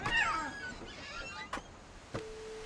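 A cat meows in the video game What Remains of Edith Finch: one drawn-out, clear meow at the start, followed by quieter game sounds, two sharp clicks and a lingering tone.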